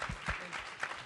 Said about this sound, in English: we should give that a round of applause